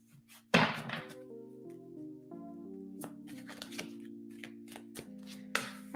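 Tarot cards are shuffled up close in quick bursts of riffling and soft slaps, with quiet background music underneath.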